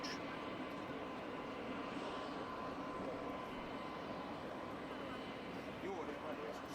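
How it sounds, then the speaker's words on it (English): A Nieuport replica aircraft makes its landing approach at an air show at Malmi, its steady engine drone running continuously at moderate, somewhat distant level with broad outdoor noise throughout. "Landing the Nieuport replica needs a skilled pilot."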